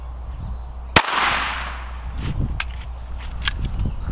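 A single sharp, close crack from a Walther P22 pistol shot at Flex Tape, followed by a brief whoosh and then soft shuffling and footstep-like rustles.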